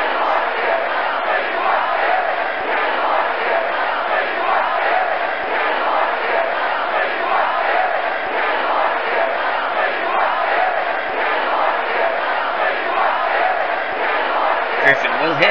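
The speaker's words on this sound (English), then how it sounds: "As the crowd once again chants, "We want to hit."" A baseball stadium crowd chants in unison at a steady, sustained roar throughout, loud and continuous.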